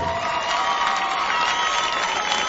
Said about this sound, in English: please, a big round of applause for Kongnapa, the challenger